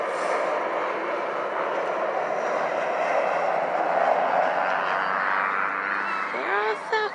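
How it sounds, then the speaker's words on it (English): A low-flying Southwest Airlines passenger jet comes in to land, its broad engine roar steady and loud throughout, with outdoor talk and a brief voice near the end over the noise. "They're all Southwest planes."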